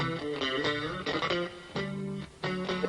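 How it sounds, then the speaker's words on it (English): Solo bass guitar played on an old instructional recording, a run of short plucked notes and chords with a clean, slightly effected tone, moderately quiet and alone without talk. "So if you want to play cool solo bass, it sounds like this"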